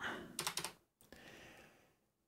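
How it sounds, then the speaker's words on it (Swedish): Tab key and other keys pressed on a computer keyboard, a quick cluster of three or four crisp clicks followed by a single sharper keystroke, close and isolated. "Jag tar och trycker på tab-knappen och ser vad jag har skapat."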